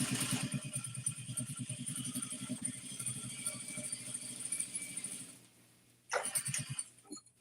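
A sewing machine stitches through heavy jogger fabric with a fast, steady mechanical chatter that runs continuously, then stops, followed by a brief final burst of stitching.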